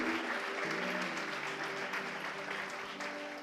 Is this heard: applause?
yes